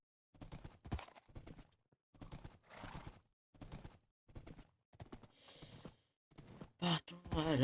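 Minecraft horse galloping, its hooves clip-clopping in a regular pattern of quick bursts with short gaps, close and clear with no talking, ending with a snort or whinny.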